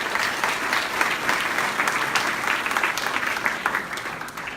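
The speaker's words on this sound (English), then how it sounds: "Please help me in giving her another round of applause" A gala audience at an annual scholarship event gives sustained applause for Ms. Dietrich, a Teacher of the Year award recipient, as many hands clap in a full, even, continuous roar with crisp individual claps standing out.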